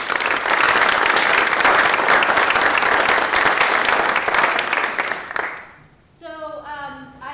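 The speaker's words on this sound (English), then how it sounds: "I want to give a big round of applause to the Linfield Career Center." Loud, dense audience applause at a college talk rolls on for about five seconds and then dies away, after which a single voice starts speaking.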